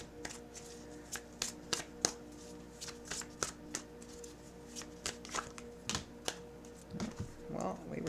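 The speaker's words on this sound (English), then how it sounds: "Let's just pull one card for this Emperor." Tarot cards being shuffled by hand, giving a steady series of crisp riffling snaps and slaps with a few quieter rustles between them.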